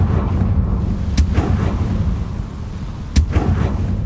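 A Confringo explosive spell cast in the Hogwarts Legacy video game gives two loud, sharp booming blasts a couple of seconds apart, over a steady rumbling game background.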